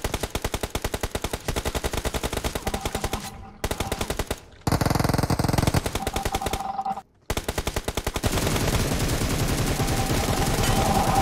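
Rapid automatic fire from an M416 rifle in PUBG Mobile rattles in long, loud, close bursts, broken by a few brief pauses before the shooting resumes.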